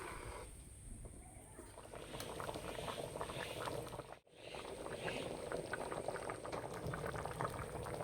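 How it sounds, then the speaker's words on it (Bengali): Chickpea and potato curry boils in a full pan, a continuous close bubbling and gurgling with a brief dropout midway, no voices. "তরকারি ভালো করে ফুটিয়ে নিয়েছি"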